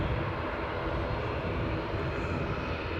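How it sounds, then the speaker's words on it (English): A Piper Comanche light aircraft moves at speed across an airport runway area, its steady broadband engine drone loud and continuous, close by and alone with no talk. "So that Piper Comanche is moving at speed, Mark."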